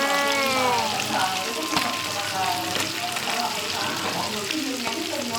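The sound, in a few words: fish frying and splattering in hot oil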